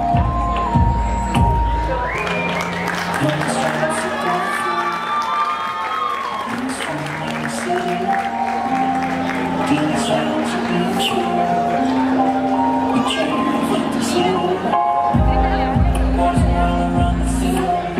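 A crowd at a big September 14 dance in Numarán, Michoacán applauds and cheers loudly for about eighteen seconds, with whoops and whistles mixed into the clapping and music sounding at the start and end.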